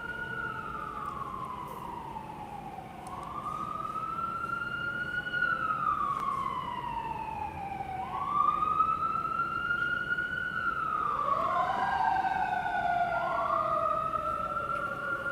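A fire engine siren from a nearby fire station wails in long rising and falling sweeps, moderately distant, with a second overlapping siren tone joining near the end over steady background noise.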